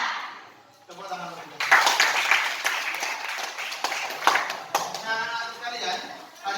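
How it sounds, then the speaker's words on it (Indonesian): Applause from a class or group at a school session, a burst of brisk clapping that rises and continues steadily, close by with some voices mixed in. "Tepuk tangan."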